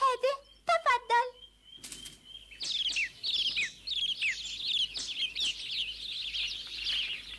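Cartoon birds being fed bread flutter their wings and chirp in a rapid series of bright tweets, following a few spoken words at the start; the flapping and calls carry on busily to the end.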